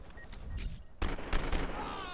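Gunfire in the video game 24: The Game, a cluster of sharp, loud shots bursting in after a brief quieter stretch, trailing into a busy mix of game noise.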